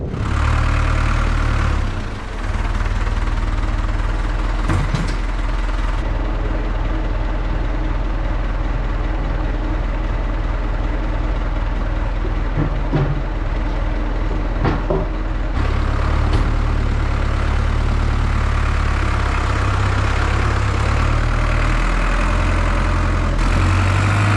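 A farm vehicle engine idles steadily with a low, continuous rumble for the whole stretch, close by and loud, with slight shifts in tone and a few short clunks along the way.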